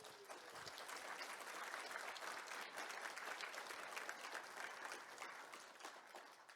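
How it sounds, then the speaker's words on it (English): An audience at an open-source security foundation gathering applauds award winners, a fairly quiet but dense, even patter of many hands that swells briefly and then tapers off. "round of applause to our inaugural Golden Egg winners"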